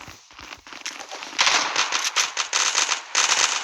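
Rapid bursts of automatic gunfire in the online shooter Zula: dense crackling volleys, sparse at first, then sustained and loud from the middle on, with short gaps between sprays.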